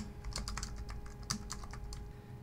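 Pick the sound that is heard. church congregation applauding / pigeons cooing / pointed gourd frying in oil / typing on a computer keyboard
typing on a computer keyboard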